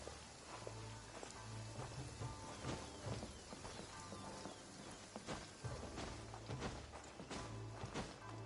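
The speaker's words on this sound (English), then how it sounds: "Taking a stroll in the middle of a downpour certainly rouses the spirit." Heavy downpour in the video game Genshin Impact, a steady dense hiss of rain on surfaces with scattered louder drops and low rumbling underneath, continuous and fairly quiet throughout.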